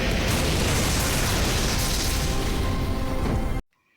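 A loud, sustained roaring blast of an explosion, dense and rumbling, cutting off abruptly into near silence.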